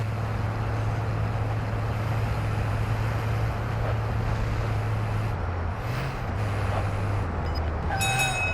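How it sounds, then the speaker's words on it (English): A train rolls past nearby with a steady low rumble and rail noise that holds loud and continuous, shifting slightly in pitch toward the end. "There's a train coming."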